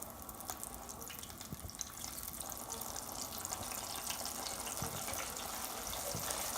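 Pieces of fish dropped into hot oil sizzle with a steady, dense crackle that stays constant throughout, close by and without any talking.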